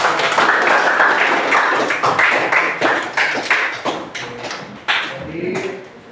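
Scattered clapping after a student group presentation in a classroom, a small group giving irregular, close-up claps that thin out, with some voices in the room.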